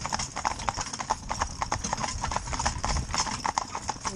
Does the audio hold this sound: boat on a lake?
no